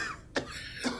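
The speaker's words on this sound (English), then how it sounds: "Cough, cough, cough. Someone been smoking." A Fallout 4 character coughs twice, two short rough bursts about half a second apart, close and fairly quiet, with no talk over them.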